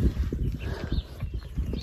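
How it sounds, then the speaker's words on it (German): A horse close by, with hoof clip-clops and shuffling movement at a stable before a ride, steady low thuds over about two seconds with no talk. "Das ist Shairo, das Pferd von Pia"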